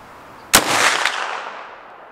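One sharp, loud shot from a Marlin 1895SBL lever-action rifle cracks out, followed by a rolling echo that fades over about a second and a half.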